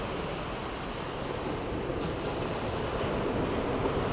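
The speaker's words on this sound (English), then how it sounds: "listening to the waves crash" Winter waves crash and surge steadily on the beach at Southsea, a broad continuous roar of surf with wind rumbling across the microphone, close and loud throughout with no voices.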